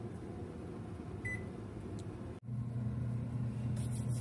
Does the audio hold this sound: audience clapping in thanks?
no